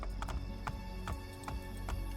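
Horse hooves clip-clop in Assassin's Creed Brotherhood, a faint, steady trot of evenly spaced hoofbeats over low background ambience.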